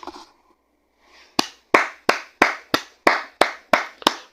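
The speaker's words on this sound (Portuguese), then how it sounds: "Uma salva de palmas." Hands clapping in a sharp, evenly spaced run of about ten loud claps close by, after a brief murmur at the start.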